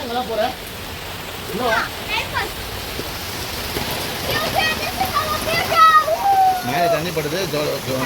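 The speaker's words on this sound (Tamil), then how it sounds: "மழையும் சூப்பராக வருது, அழகாக இருக்குது பாருங்க." Steady rain falls outdoors at a roadside spot, a continuous hiss that stays loud throughout while people talk over it.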